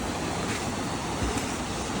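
A creek rushing over giant boulders on a backpacking trip to a waterfall, a dense, loud, continuous wash of water noise close to the microphone, with no talk.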